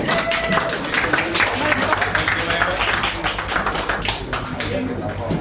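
An audience claps at a PROTOHOME 2016 evening event, giving a crowd of sharp, rapid hand claps that continues steadily throughout, with voices murmuring underneath.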